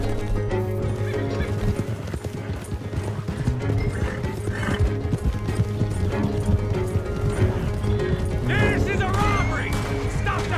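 Horses in Red Dead Redemption 2 gallop with steady clip-clop hoofbeats and loud neighs and whinnies, all set within a busy game soundtrack as the riders charge on, with shouting voices heard over the action.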